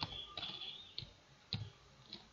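Faint keystrokes typing a command on a computer keyboard, about five soft separate clicks in a quiet room.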